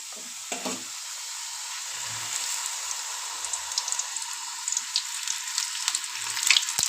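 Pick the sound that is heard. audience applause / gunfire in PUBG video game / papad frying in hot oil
papad frying in hot oil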